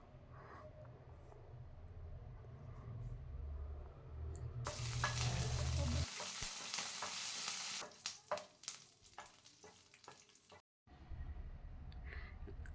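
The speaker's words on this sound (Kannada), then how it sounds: "ಕರಿಬೇವು ಇದೆಯಲ್ಲ ಅದನ್ನು ಹಾಕಿ ಸ್ವಲ್ಪ ಫ್ರೈ ಮಾಡ್ಕೊಂಬಿಡೋಣ" Curry leaves frying in a small amount of oil for Hyderabad green chicken, with a low hum first, then a sudden loud spluttering sizzle, a string of sharp crackles and pops, and a brief dropout.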